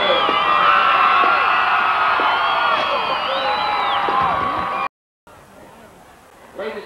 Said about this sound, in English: would you please join me in a standing round of applause for all units to show our appreciation for their hard work and excellence